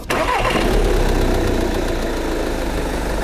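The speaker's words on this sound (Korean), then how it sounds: "시동 걸었을 때 엔진 소리는 그렇게 나쁘지가 않았어요." A diesel Volkswagen CC engine cranks and catches, then settles into a steady, rumbling idle close by, with a low mechanical knock running underneath.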